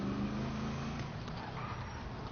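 A car engine drones under steady road noise in a driving video game, with a low continuous hum that shifts slightly in pitch as the car is driven. Nobody speaks.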